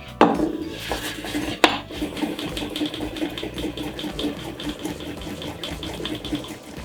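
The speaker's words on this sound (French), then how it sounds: "On râpe exactement le wasabi de la même façon." Wasabi being grated on a sharkskin grater: a close, continuous rhythmic rasping with a few sharp clatters at the start, and no talk.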